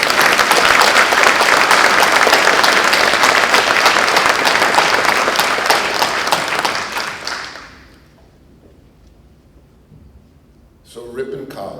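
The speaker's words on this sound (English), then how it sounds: "Will you join me in a round of applause?" An audience at a college alumni award ceremony gives a loud, sustained round of applause for about eight seconds, fading to quiet before a voice begins speaking.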